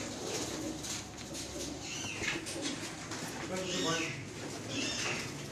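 Pigeons coo softly in repeated low, throaty phrases, with chirps and a background voice talking at moments.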